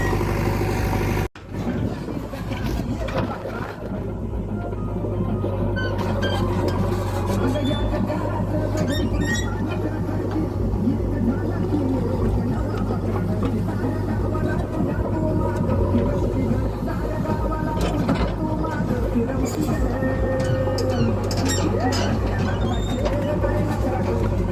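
Mahindra tractor engine running while soil is loaded by a JCB, a steady loud diesel rumble with a constant low throb throughout, mixed with clanks and talk.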